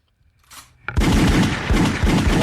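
Gunshot sound effect on a radio show, one loud, close blast with a rapid burst of repeated shots right after it.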